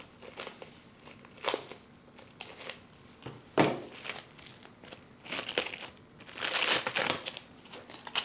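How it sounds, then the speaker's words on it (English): Plastic wrap being handled and crinkled while covering a monstera cutting, making close, irregular crackling bursts of varying loudness with no talking. "So with some plastic wrap, actually I'll be able to cut this in half."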